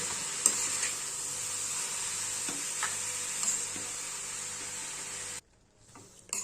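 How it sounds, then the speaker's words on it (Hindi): Grated carrots sizzle steadily as they stir-fry in a pan over a low gas flame, with occasional soft scrapes of the spoon and a brief pause near the end. "गैस की फ्लेम को लो पर करते हुए गाजर को 10 मिनट के करीब भूनेंगे"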